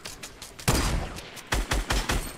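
Gunfire in the video game Fortnite: a burst of sharp, close shots, one heavy crack followed by a quick rhythmic volley of four or five more, loud and alone without talk.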